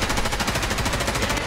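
Rapid automatic gunfire in Escape from Tarkov Arena, a loud, even stream of closely spaced shots ripping through the whole moment, close and alone.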